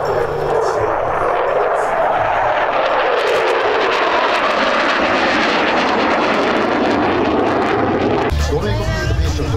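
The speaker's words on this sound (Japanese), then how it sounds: "F-16 の優れたエンジン性能と卓越した操縦特性が機体を横向きに維持したまま水平に飛行することを可能にしています。" F-16 fighter jet at a flying demonstration during an air base friendship day, a loud, sustained roaring engine rush that swells and holds for several seconds, with voices faintly underneath.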